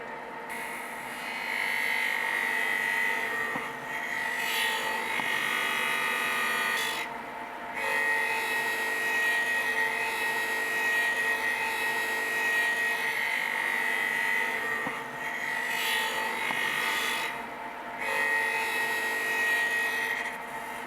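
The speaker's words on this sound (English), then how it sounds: "what we're going to do first is a rough finish grind, and then we'll put the finish grind on" A grinding machine with a 120-grit Borazon wheel rough-grinds moulding knife steel, giving a sustained high, tonal grinding whine with harmonic hum that swells and dips in repeated passes for about twenty seconds.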